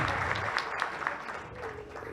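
An audience applauds at a national tribute ceremony in the Colombian Congress honoring Roberto Gerlein, a dense, continuous patter of clapping at moderate loudness that softens slightly toward the end.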